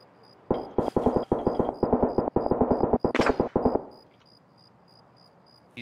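Rapid rifle shots from Escape From Tarkov, a loud close string of about a dozen cracks in quick bursts with a short gap, fading into echo and quiet afterward.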